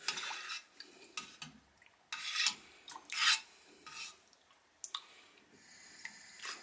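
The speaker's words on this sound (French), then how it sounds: "j'ai mis un peu plus fort parce que là ce miel là il est assez dur à mélanger" Honey stirred into water for homemade mead, a spoon scraping and swishing in a container in uneven rasping strokes, close and fairly quiet, with no talking.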